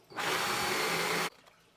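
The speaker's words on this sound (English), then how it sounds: "Sorry about the sound, but I just got to drill this hole." A power drill boring a hole through a koi pond filter pipe outdoors, one loud, steady whine that starts abruptly, holds for about a second and cuts off sharply.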